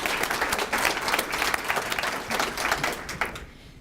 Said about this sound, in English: And let's give Shanna a round of applause too for the wonderful readings.